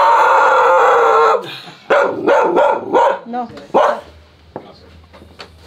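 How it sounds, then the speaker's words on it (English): Dogs bark and howl loudly inside a house in a poor Argentine neighborhood, a sustained howling chorus followed by several sharp barks while people converse in Spanish. "The dogs are inside."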